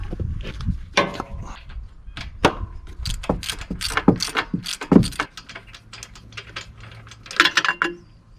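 A ratchet wrench working spark plugs out of an engine, heard as a series of sharp metallic clicks and clanks in irregular bursts, fairly close, with no talk over it.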